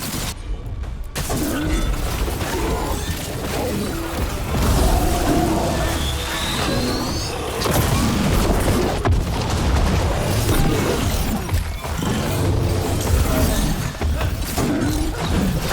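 Explosions and crashing combat effects in the video game Dragon Age: The Veilguard, a dense, continuous barrage of booms and shattering blasts with occasional character voices.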